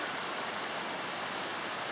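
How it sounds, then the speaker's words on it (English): Water runs over rocks in Flume Gorge, a steady, dense, close rushing hiss with no pauses and no voices. "There's the water running over some rocks."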